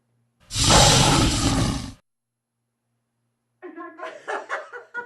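A person imitates a lion's roar with one long, loud, raspy bellow lasting over a second. After a brief silence come breathy laughter and voices.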